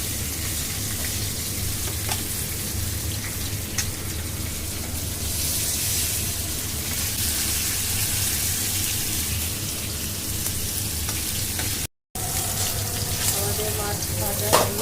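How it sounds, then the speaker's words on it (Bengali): Pieces of kalibaus fish frying in hot oil in a pan, with a continuous dense sizzle and crackle like steady rain. It runs close and even throughout, with a brief dropout near the end. "একটু আস্তে আস্তে ভাজতে হবে।"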